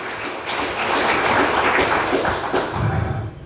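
A church congregation gives a burst of applause, loud, dense clapping that holds steady and then thins out toward the end.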